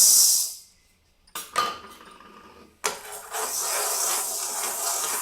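Green gram dry-roasting in a pan while being stirred, giving a steady dry hiss and rustle with a few sharp scraping bursts, close by and without talk.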